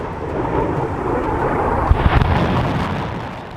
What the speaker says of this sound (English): its army fired its newly delivered HIMARS launchers